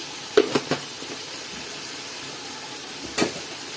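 Ginger garlic paste dropped into hot oil while making aloo biryani, a few sharp sizzling bursts near the start and again later over a low steady hiss.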